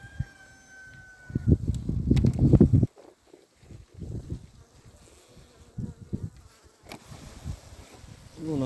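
Honey bees buzz around an opened hive, a close, irregular drone that swells loudly for a moment, then returns in scattered bursts among handling noises.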